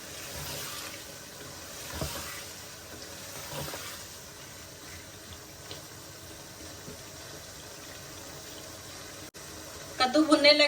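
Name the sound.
pumpkin frying in spice masala in a pan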